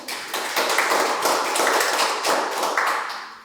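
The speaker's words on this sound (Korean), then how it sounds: "큰 박수로 환영해 주시기 바랍니다" Audience applause welcoming guests at an academic conference on cultural heritage in Seongnam, a steady broadband wash of many hands clapping that holds for about three seconds before tapering off.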